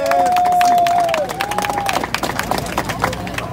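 A street crowd of striking railway maintenance workers at Paris Nord station claps and cheers, a burst of scattered applause with whistles and shouts following a loud voice.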